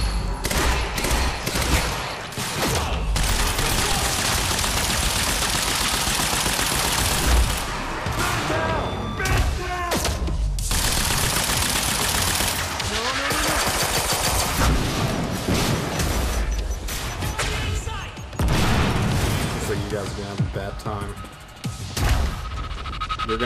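Loud, dense gunfire in a Quantum Break shootout as people are shot at, nearly continuous bursts with booming impacts and mechanical clatter, briefly pausing and resuming across the stretch.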